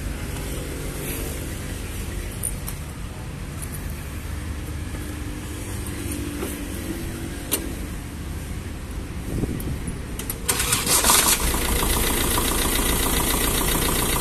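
Tractor engine at a farm machinery dealer, idling with a steady low knocking rumble and wind noise, then revving louder and harsher near the end.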